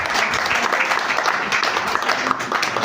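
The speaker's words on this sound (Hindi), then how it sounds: "ताली बजाइए।" An indoor audience claps steadily, a dense even round of applause lasting a few seconds, with a voice faintly audible beneath it.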